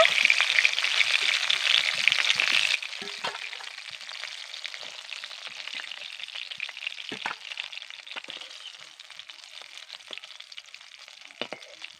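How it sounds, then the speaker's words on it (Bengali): Puti fish, large pool barb caught from a pond, fry in hot oil with a loud crackling sizzle that drops to a quieter steady hiss, with occasional light ticks and pops. "মাছগুলোর এক দিকটা ভেজে নিয়েছি এবার অন্য দিকটাও ভেজে নেব আর মাছগুলোকে কিন্তু একদম লাল লাল করে আমি ভেজে নেবো"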